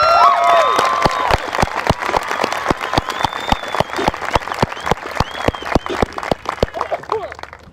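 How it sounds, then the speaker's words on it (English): A high school graduation audience claps for departing military recruits, a sustained crowd applause with sharp individual claps standing out, and voices with cheers and whoops mixed in that thin out toward the end. "Let's have a round of applause."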